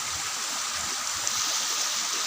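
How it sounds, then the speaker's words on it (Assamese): A river flows steadily close by at Bhairavkunda, a continuous broadband rush of water with no pauses, holding an even level throughout without any voices. "এটো হৈছে নদী"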